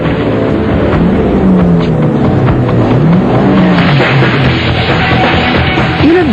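Street racing cars accelerating through traffic in Toronto, with loud, steady engine roar throughout and rising and falling revving tones as the cars speed up and pass.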